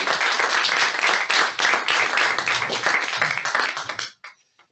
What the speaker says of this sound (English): We could give a panel round of applause.